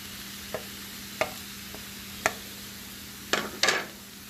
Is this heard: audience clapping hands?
no